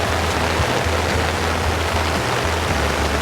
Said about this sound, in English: Now this is the overflow of just one dam.